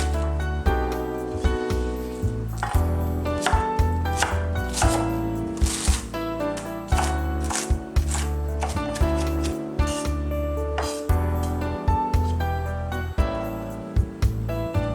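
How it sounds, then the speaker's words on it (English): Steady knife chopping of finely cut cabbage on a board, a fast run of sharp close taps with brief pauses, while music plays throughout. "Remove the core of cabbage and chop finely."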